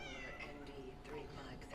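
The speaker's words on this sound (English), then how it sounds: "Come to the cat, guys, give it a good petting." A cat meowing in the video game Cronos: The New Dawn, a few soft, drawn-out meows over a quiet background, faint and close, with no talking.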